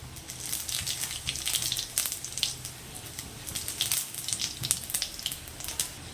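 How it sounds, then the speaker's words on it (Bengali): Whole cumin seeds crackle in hot oil, a dense run of sharp pops and sputters over a steady sizzle, close and fairly loud, without speech. "এর মধ্যে গোটা জিরে আমি ফোড়ন দিলাম"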